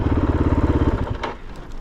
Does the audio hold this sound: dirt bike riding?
yes